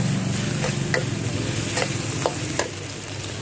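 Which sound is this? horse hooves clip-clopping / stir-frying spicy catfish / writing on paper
stir-frying spicy catfish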